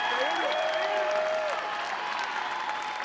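An arena crowd at a college wrestling dual meet applauds and cheers a match win at 184 pounds, sustained, dense clapping and shouting that fills the whole stretch at steady loudness.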